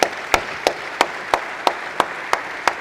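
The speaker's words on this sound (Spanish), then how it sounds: "Recibimos a todos con un fuerte aplauso." An audience at a national congress of state lawyers claps in slow unison, sharp, evenly spaced claps about three per second, each standing out clearly against quiet room noise.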